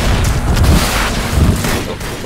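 Grenade blasts in Tomb Raider Legend, loud, dense booming bursts with a rumbling low end that fills the whole moment.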